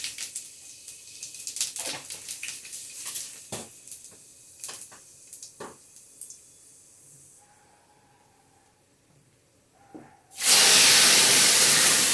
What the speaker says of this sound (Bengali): এখানে দেখো কড়াইতে তেল বসিয়ে দিয়েছি লঙ্কাও দিয়ে দিলাম